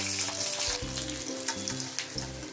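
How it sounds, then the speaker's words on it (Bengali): Bata fish fries in hot oil after being turned, giving a loud, continuous sizzle close up, with no talk. "মাছটা উল্টে দিয়েছি, এইবার ভাজা হয়ে গেছে, তেল ঝরিয়ে তুলে নেব"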